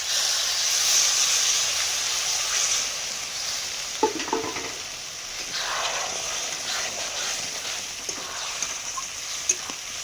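A masala of turmeric powder, chili powder and water frying in a pan, giving a steady, loud sizzle and hiss with a few brief stirring scrapes, and no speech.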